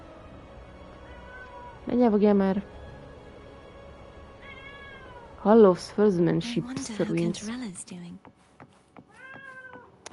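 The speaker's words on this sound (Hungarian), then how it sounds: "Felközben a macska meg minyákol." Cat meowing in the video game Wuthering Waves, several clear meows in short bursts between stretches of talk, with a voice speaking over parts of it and game sounds in the background.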